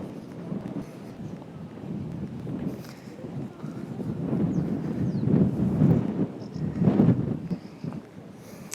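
Strong gusting wind blows across the microphone outdoors at Lourdes, France, a steady low roar that swells louder in the middle and later seconds, with no clear speech over it.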